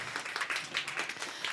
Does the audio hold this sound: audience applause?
yes